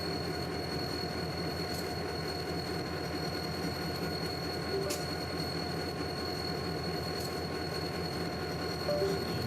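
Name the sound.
NYSW freight train with two SD40-2 locomotives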